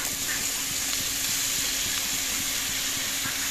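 Cut ridged gourd pieces hit a hot pan for a ridged gourd and fish dish, giving a steady, close, broad sizzling hiss that holds evenly throughout with a faint low hum beneath.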